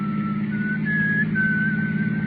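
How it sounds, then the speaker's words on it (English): A man whistles a short, wavering tune in a radio drama, a thin steady melody over a low, constant engine-like hum from inside a car. "Then I heard him whistle."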